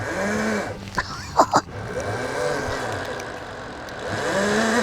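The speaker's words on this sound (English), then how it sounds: "A little burnout real quick." An ETM RTR high-torque motor bike does a short burnout. A mid-pitched engine idles and revs near the listener, with a couple of sharp rising bursts around the middle and wavering tones underneath, and no clear talk.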